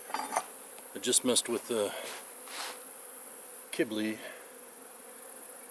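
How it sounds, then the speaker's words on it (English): Honeybees flying around a Lilac beehive in a Piedmont yard in October make a steady, low background hum, with a voice speaking briefly over it. "you can kind of hear the hum in the background from all the bees flying around"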